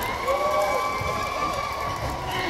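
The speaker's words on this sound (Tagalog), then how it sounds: "maingay na yung crowd dun, no? Umingay, oh." A noisy crowd at a quarter-final volleyball game between ERSD and ECAD cheers and shouts continuously, with children's voices and whistles rising over a steady roar.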